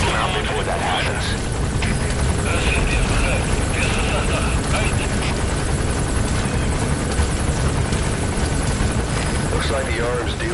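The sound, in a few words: helicopter landing, from a video game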